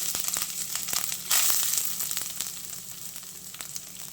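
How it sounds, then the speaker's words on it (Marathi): Grated coconut hits a spoonful of hot ghee in a pan while making steamed modak, and a bright, steady sizzle surges loudly at the moment it drops in, then eases to a softer crackle with small scattered pops. "पॅनमध्ये मी एक चमचा तूप घालून घेतलेला आहे आता खोबरं घालते"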